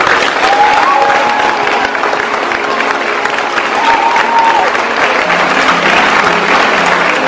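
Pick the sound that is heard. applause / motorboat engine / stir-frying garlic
applause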